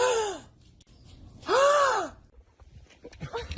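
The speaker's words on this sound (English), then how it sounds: "Gasp dramatically." Two sharp, dramatic gasps from a person, each a rising-then-falling vocal breath, separated by a pause, with faint background noise afterward.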